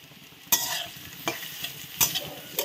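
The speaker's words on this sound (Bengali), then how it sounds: "এগুলো সব আমি তেলের মধ্যে দিয়ে দেব" Grated coconut, ginger, raisins and cashews fry in hot oil, a soft steady sizzle broken by a few sharp stirring scrapes, close and fairly quiet with no voices.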